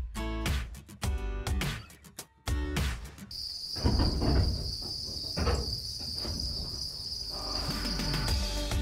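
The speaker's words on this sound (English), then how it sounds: "And now thousands of crickets can feast on this." Dense, continuous high-pitched chirping of thousands of crickets in an indoor cricket-rearing unit, steady throughout, with some soft clattering and shuffling noises underneath.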